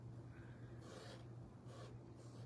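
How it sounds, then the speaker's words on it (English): A squeegee scrapes shimmer craft material off a surface while making a DIY cake kit, giving two soft rasping strokes over a steady low hum, close and fairly quiet. "And then I scrape it off"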